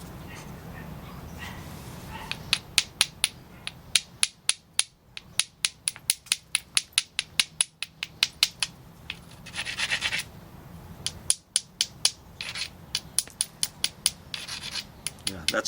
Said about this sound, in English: If you can hear that sound, that means you're getting clean flakes off the edge here.